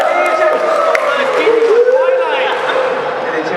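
Crowd at a pony fan convention, cheering and whooping in a large hall, a steady loud wash of many voices with a few higher shouts rising above it.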